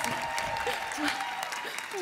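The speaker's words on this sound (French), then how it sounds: "Faut les applaudir quand même." Audience applause during a French live magic show celebrating thirty years of magic, steady and fairly loud over its whole length, mixed with voices and a few shouts.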